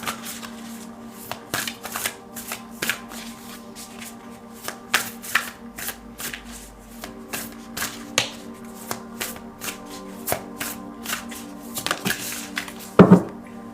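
A deck of tarot cards shuffled up close, with repeated crisp riffles and soft slaps in a steady, uneven rhythm. No one speaks.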